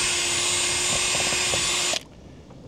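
A power drill backs screws out of deck boards during a deck repair, whirring loudly and continuously for about two seconds before stopping abruptly, leaving a quiet background.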